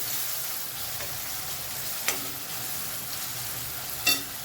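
Shredded cabbage sautéed with turmeric in a pan for a homestyle cabbage sabji, giving a faint, steady sizzle with soft stirring and two brief scrapes of the spoon, no voices.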